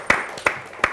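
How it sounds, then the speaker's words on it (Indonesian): Three slow, separate hand claps in a television studio, evenly spaced and fairly close, with quiet room noise in between. "Tepuk tangan dong teman-teman."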